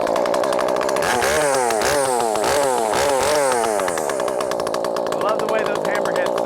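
A ported, customized Echo 590 chainsaw fitted with an Oregon safety chain makes easy cuts, its engine loud and close with rising and falling revving pitches as the chain bites into wood, then settling toward a steady high idle.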